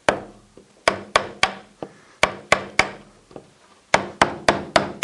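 A hand chisel cuts the valleys of a modern Swiss Alps relief carved in wood and held in a carving vise. Close, crisp wooden taps come in an irregular series of about seventeen strikes, some loud and some faint, with no talk.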